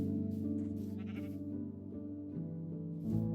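Sheep in the Minecraft video game bleat repeatedly in a steady run of wavering, nasal calls that overlap one another, loud and close, with no talking.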